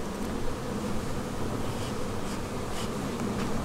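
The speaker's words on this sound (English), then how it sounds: "That is a lot of bees on the bottom there." A dense, steady buzzing of many honey bees in a hive, close and continuous, with no voices.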